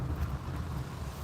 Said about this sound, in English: Wow, it's a windy day, man.